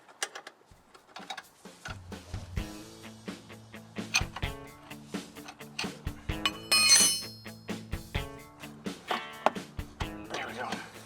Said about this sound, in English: I just got to put a wrench on there